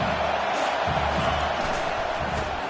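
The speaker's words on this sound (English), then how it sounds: "The roar of the crowd trying to fuel this defense to keep them pinned in their own end." A stadium crowd in the College Football 25 video game keeps up a steady, broad roar throughout, with faint thumps underneath and no distinct voices rising above it.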